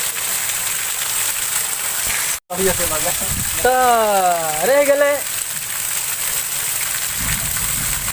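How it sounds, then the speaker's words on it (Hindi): Steady rain pours down outside a roadside shop at Parwa Chowk, a continuous close hiss running the whole time while someone talks over it. "बारिश हो रहा है"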